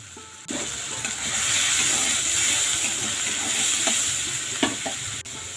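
Ginger, garlic and onion pastes with tomato puree fry in a pan for a spiny gourd curry, giving a steady, close sizzle and hiss with scraping and stirring knocks throughout, no voices.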